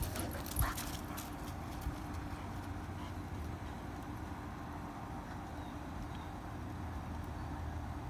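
A search dog whimpers faintly during a free search outdoors, with soft intermittent whines over a steady low rumble of wind or distant traffic, no voices heard.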